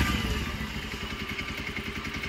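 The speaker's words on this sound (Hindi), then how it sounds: "समीर मानता नहीं है पापा की बाइक चलाने लग रहा है" A boy rides his father's motorcycle, the engine putting out a steady, rapid, close chugging rumble with a rattling clatter.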